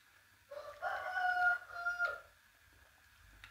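Rooster crowing among chickens, a single drawn-out cock-a-doodle-doo rising and falling over about two seconds, moderately close, followed by quiet.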